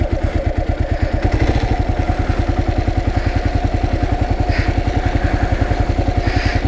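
A KLR motorcycle rolls along very slowly, its engine giving a loud, close, steady rapid thumping beat throughout.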